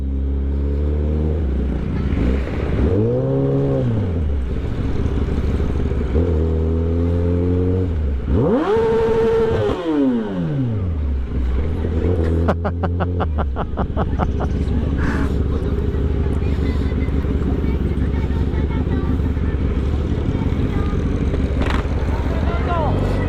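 Road traffic in the Philippines, with a loud nearby engine revving and shifting through rising and falling pitch sweeps over a constant low rumble, with talk mixed in.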